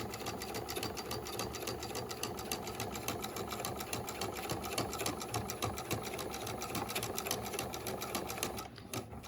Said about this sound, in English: we want to sew down, sewing as close to that folded edge as we can